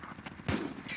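A single heavy boom from a vehicle's main gun in the video game Project Reality, loud and abrupt, with faint background noise before and after.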